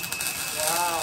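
Dense crackling and sizzling of close welding on a Honda Civic exhaust tip adapter, hissing steadily for about a second.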